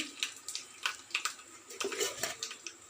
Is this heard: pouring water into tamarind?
yes